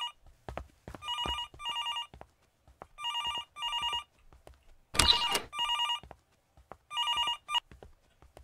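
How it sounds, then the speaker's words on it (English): A telephone rings downstairs in a warehouse, its bell sounding in four separate bursts with pauses between them, clear and fairly close, with scattered knocks and one sharp noise in a gap. "you hear the phone downstairs like it's right in front of your face"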